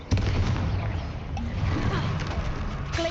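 A Confringo fire spell explodes in Hogwarts Legacy, a broad booming blast over steady rumbling game noise, with a few lighter crackles and hits following through the battle.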